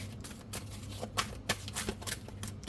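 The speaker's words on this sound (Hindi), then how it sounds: "एक कार्ड और लूँगी मैं आपके लिए" Tarot cards are shuffled close up, a quick run of soft riffling slaps and flicks that sounds quiet and papery. Faint speech is barely present underneath.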